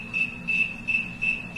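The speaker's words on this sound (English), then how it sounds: "snowy tree cricket, which is probably the most ubiquitous cricket in the United States" A snowy tree cricket chirps in a steady, evenly spaced rhythm, four or five clear pulses repeating one after another, close and alone against a quiet background.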